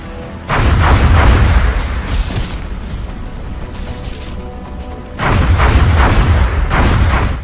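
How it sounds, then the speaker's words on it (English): In XCOM: Enemy Unknown, a muton alien lays down suppressive fire as two long, loud bursts of heavy booming gunfire. A short, quieter gap separates the bursts. "The muton can also lay down suppressive fire"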